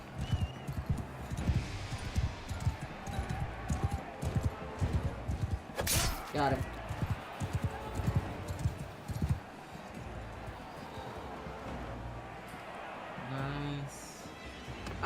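Horse hooves gallop in rapid, irregular thuds during a fantasy-mod battle in the Mount & Blade II Bannerlord video game, with clashing combat effects, a sharp impact, and someone speaking briefly over the din.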